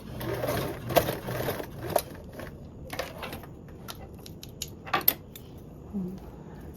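A sewing machine bastes an eighth-inch edge on a toiletry bag, running in short bursts of rapid stitching separated by pauses, with occasional clicks and rustles of fabric handling.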